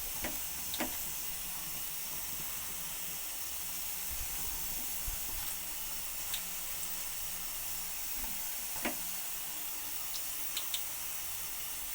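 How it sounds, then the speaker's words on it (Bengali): Pumpkin fritters frying a few at a time in hot oil, a steady loud sizzling hiss throughout with a few faint clinks and taps, no talking. "তেল আমার গরম হয়ে গেছে এবার পোড়াগুলো এক এক করে ভেজে নেব"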